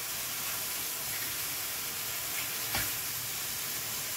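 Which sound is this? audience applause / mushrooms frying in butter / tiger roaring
mushrooms frying in butter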